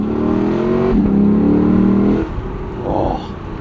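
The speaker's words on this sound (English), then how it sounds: "The sound of the V8" A Lexus LC 500 convertible's V8 revs loudly and close for about two seconds with a rising, steady engine tone, then drops away to a quieter running note.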